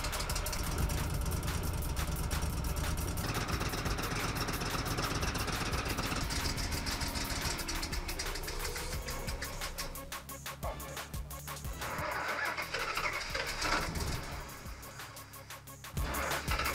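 Engine of a cheap old camper car hauler running after distributor cap work, a steady mid-pitched rumble, fairly loud and continuous, with some rattling and shifting noise through the middle and no speech.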